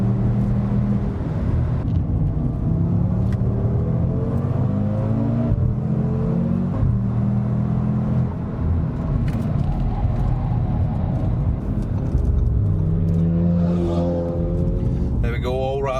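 A 520 bhp Audi RS3 accelerating hard during a race with all four wheels spinning, a loud steady engine roar with rising and falling gear sweeps.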